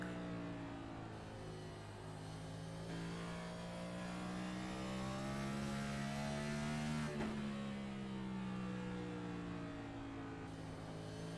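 A race car engine in a racing video game howls loud and steady from the cockpit view at Five Flags, its pitch climbing through the gears, then dropping sharply before rising again.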